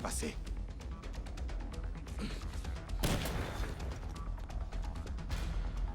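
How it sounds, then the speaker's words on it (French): Gunfire in the game Dead Rising Deluxe Remaster comes from an upper floor, a dense barrage of sharp shots and crashes layered under game noise, with someone talking over it. "Quelqu'un tire depuis l'étage supérieur."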